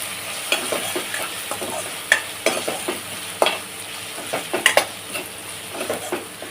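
Green paste of coriander and ginger sautéing in a pan for tiger prawn masala, a low hiss of frying under frequent brisk scrapes and taps of a spoon stirring against the pan, close and without talk.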